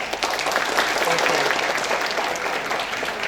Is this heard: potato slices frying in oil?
no